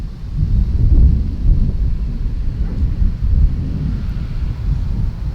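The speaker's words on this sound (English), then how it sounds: "I don't like the high wind velocity." High wind buffeting a flying DJI Avata FPV drone, heard as a loud, low rumbling roar of gusts on the microphone that continues throughout without voices.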